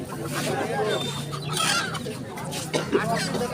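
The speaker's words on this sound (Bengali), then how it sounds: "এত মুরগি আপনি কোথায় পাইলেন" Chickens crowd a busy poultry market and cluck loudly and continuously, the noise steady throughout, while people talk nearby underneath.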